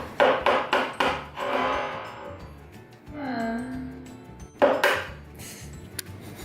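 Hard taps of an egg against a bowl's rim while making a pecan chocolate chip pie: a quick run of sharp knocks, a pause with kitchen clatter, then another burst of taps, close and clear, with a voice speaking in between.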